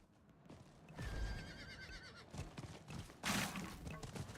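A horse in the Diablo IV video game neighs, with a drawn-out whinny followed by clip-clopping hooves and a few thuds, fairly quiet overall.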